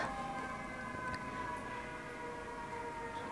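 An ambulance siren sounds as a steady, droning wail of sustained tones over a constant background hum for the whole stretch, with no voices.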